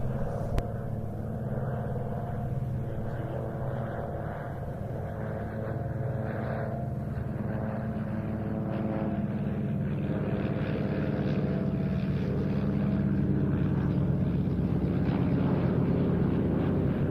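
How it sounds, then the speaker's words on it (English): De Havilland Canada Chipmunk and Beaver aircraft run at Duxford, a steady droning piston-engine and propeller hum with tonal bands that slowly swells louder toward the end. "From the left then, the de Havilland Canada Chipmunk and Beaver."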